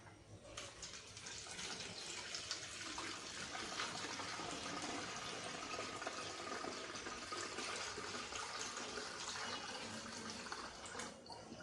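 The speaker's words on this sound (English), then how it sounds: "pour this in my container, and using this funnel" Isopropyl alcohol for homemade hand sanitizer poured through a funnel into a container, giving a steady, fairly quiet stream of trickling liquid that runs without a break for the whole stretch, with no voices.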